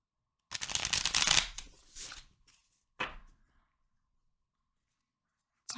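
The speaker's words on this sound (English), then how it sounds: "One more shuffle." A deck of tarot cards being shuffled close up, with a dense riffle at the start, shorter card rustles after it, and a brief sound at the very end.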